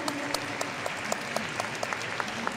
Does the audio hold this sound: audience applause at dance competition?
yes